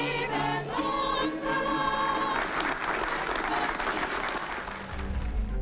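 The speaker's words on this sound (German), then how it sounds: "Applaus" Dense applause from a large crowd, steady and loud throughout, with some musical tones and chatter mixed in near the start.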